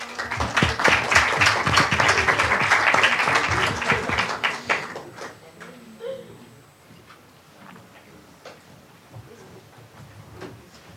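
Audience applause at an environmental law conference, a dense burst of clapping for several seconds that thins out into scattered claps and room murmur.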